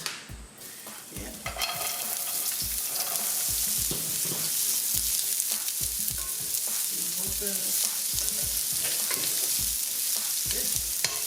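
Onions fry with canned corned beef in a pan under a steady sizzle. Regular rhythmic stirring knocks and scrapes sound against the pan throughout.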